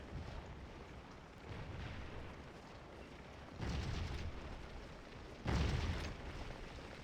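Canister artillery fire in the Civil War game Scourge of War Gettysburg, a rolling wash of battle noise with two heavier booming bursts standing out, heard at some distance without talk.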